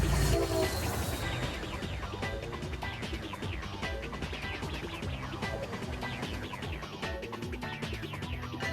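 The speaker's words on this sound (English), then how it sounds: "This one's an MBTA southbound express train toward Wickford Junction." MBTA southbound express commuter train toward Wickford Junction passing near Boston, a loud steady rumble of wheels and cars with rhythmic rail clatter and a brief horn at the start, no voices.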